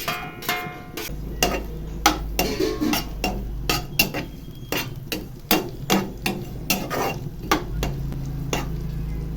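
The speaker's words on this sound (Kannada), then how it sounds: "ಇವಾಗ ಈರುಳ್ಳಿ ಹಾಕೋತಿದ್ದೀನಿ." Sliced onions stirred in a pan of hot oil with curry leaves, cooked for a chicken dry dish: a steady run of sharp metal spoon scrapes and knocks against the pan, roughly twice a second, over a low sizzle, with no talking.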